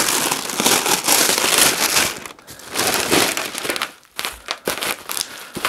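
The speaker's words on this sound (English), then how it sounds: "Sorry about the noise from the plastic." Plastic packaging from a bird feeder set with a large squirrel baffle crinkles and crackles up close, loud bursts of rustling with brief pauses between handlings.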